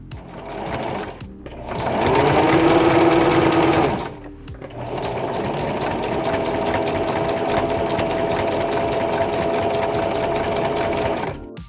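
A sewing machine stitches pieces of a mushroom cap hat, running in steady bursts with a loud, fast whir from about 1.5 to 4 seconds, a short pause, then a long even run to the end.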